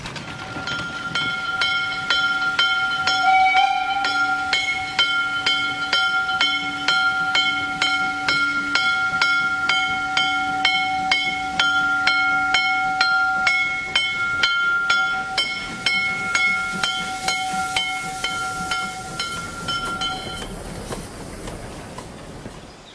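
A narrow-gauge freight train, number 54203, departs toward Jöhstadt in the Preßnitz valley, rolling steadily and loudly with sustained tonal whistle-like lines and rhythmic wheel clatter for about twenty seconds before easing off.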